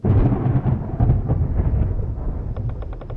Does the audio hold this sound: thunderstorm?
yes